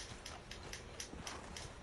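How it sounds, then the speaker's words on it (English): Horse hooves clip-clopping at a walk in a steady, even rhythm, moderately distant and soft over a hissy background. "there's a horse"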